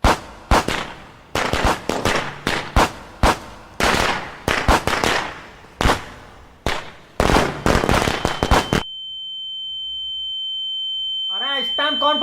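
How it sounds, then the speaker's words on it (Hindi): Firecrackers burst in rapid, loud, irregular volleys for several seconds, then stop, leaving a high whine and a brief warbling tone. "अरे इस टाइम कौन पटाखे फोड़ता है बे?"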